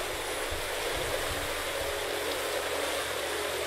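A steady rush of water pours down a waterfall in The First Tree video game, a continuous broadband wash with no distinct splash standing out, loud and unbroken throughout.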